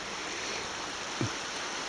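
Weiser River at Shoepeg Bridge in January, the current rushing in a steady broadband wash with one brief low splash partway through, no voices.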